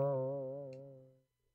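A single cartoonish boing rings out, a bright wobbling twang that slowly fades over about a second, alone and fairly faint.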